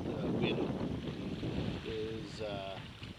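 Wind buffeting the microphone and waves sloshing during canoe sailing on the St. Lawrence near Long Sault, Ontario, a steady rough rush with brief faint voices underneath.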